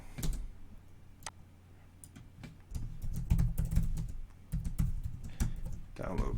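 Computer keyboard typing during live web coding, rapid irregular clicks and clacks close up, with someone talking over parts of it.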